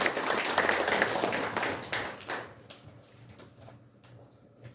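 An audience at a ceremony applauds an arriving guest, with clapping strong at first and then thinning to scattered faint claps over a low hum.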